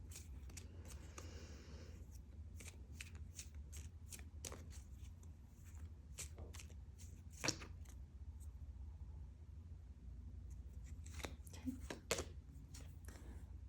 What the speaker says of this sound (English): I'm going to pull some law of attraction cards for you.